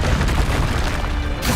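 A Confringo fire spell bursting in the video game Hogwarts Legacy, a heavy booming blast with a rumbling, crackling body that fills the moment and cuts off sharply near the end.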